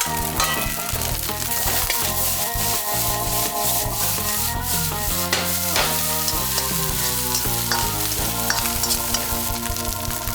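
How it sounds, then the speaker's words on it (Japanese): Garlic meat fried rice, a Kitakyushu specialty, is stir-fried with garlic chips and green onion, giving a constant sizzle and rapid rhythmic scraping and tossing in the pan, with music playing underneath. "混ぜ合わせたら先ほど取り上げたガーリックチップとネギを投入。"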